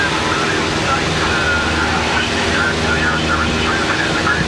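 Light aircraft engine droning steadily with the power pulled back, a continuous loud cabin hum with no breaks, a voice speaking over it.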